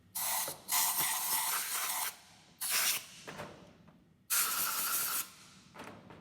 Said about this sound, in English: There's some brass chips left behind, so I'm going to take a blow gun and blow those out